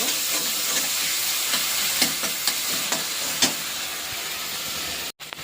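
Tomato chutney with panch phoron and sugar is stirred in a hot pan, giving a steady frying sizzle and hiss broken by occasional soft scrapes of the spoon, close and alone, then a brief cut near the end.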